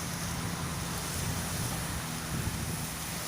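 Sea waves on a Gulf of Thailand beach, a steady broadband wash of surf mixed with wind buffeting the microphone, continuous and fairly close.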